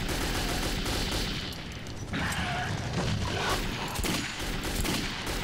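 Gunfire from the video game Metro 2033, rapid bursts of shots and booming impacts layered over a dense, loud clatter of combat noise that continues with little pause throughout.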